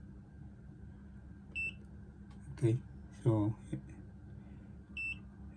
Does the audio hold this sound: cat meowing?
no